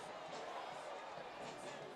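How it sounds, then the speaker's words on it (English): Stadium crowd at a USL soccer match between Sacramento Republic FC and Rio Grande Valley FC, a steady broad roar of many voices swelling briefly beneath a commentator talking throughout. "Crowd liked it for a moment."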